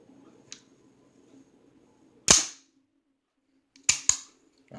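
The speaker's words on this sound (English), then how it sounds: "so I'm gonna go ahead and take her down" A Norinco NP34 9mm pistol is taken down on an otherwise quiet bench, giving three or four sharp metallic slide clicks, one sharp snap and then a quick double clack, close and crisp.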